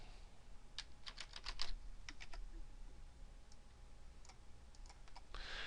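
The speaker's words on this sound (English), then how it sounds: "I'm going to type frequency here." Someone types on a computer keyboard in short bursts of quick, light clicks separated by pauses, close and fairly quiet in an otherwise calm room.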